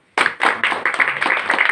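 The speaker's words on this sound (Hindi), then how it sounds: "तो बढ़िया सी ताली बजाओ" An audience claps together in a burst of quick, rhythmic handclaps, loud and close, starting abruptly and continuing without talk.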